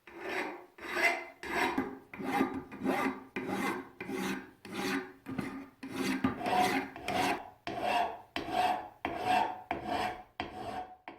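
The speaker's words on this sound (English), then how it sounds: "As you can see from the sheer amount of filing I've had to do" Hand file working scratches out of Showa front fork parts from a Honda CR250, about a dozen evenly spaced rasping strokes, close and clear with no talk.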